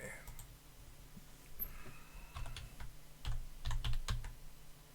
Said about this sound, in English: I need a bloody new keyboard.